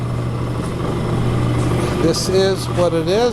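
The motor of an AMMCO 7000 disc brake rotor lathe runs with a constant low hum, and someone speaks over it toward the end.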